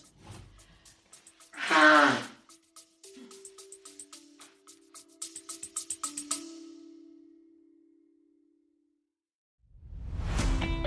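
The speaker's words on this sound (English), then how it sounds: "hold up, I have to sneeze." A single sharp sneeze bursts out early, followed by breathy sniffing and a humming tone, then a loud rushing exhale near the end.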